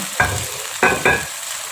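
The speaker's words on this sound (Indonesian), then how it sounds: "Selanjutnya kita masukkan ini tomat cherry. Kita masak sebentar." Cherry tomatoes go into a hot pan with spicy stir-fried milkfish in tauco sauce, giving three short bursts of stirring and sizzling close by, separated by quieter gaps.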